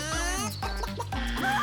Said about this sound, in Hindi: वाकई एक मुर्गी।